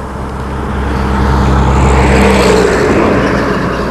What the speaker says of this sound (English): This section gets a phenomenal amount of traffic, particularly truck traffic.